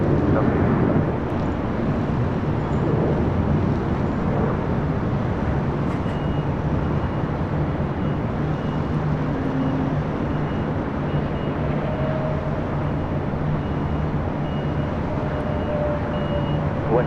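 An airliner takes off from runway 24 left at LAX, a steady broad engine roar that holds for the whole stretch at a constant level, with faint radio talk now and then beneath it.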